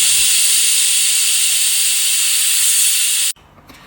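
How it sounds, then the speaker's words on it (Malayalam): A pressure cooker on a home kitchen stove lets off a loud, steady hiss of escaping steam for about three seconds, then cuts off abruptly into near silence. "close the pressure cooker and then wait for the 3 whistles"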